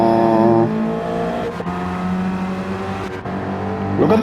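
Race car engines in Gran Turismo 7 drone steadily at high revs, a loud sustained harmonic whine with shifting pitches as cars run together, a brief dip midway and a rising rev near the end.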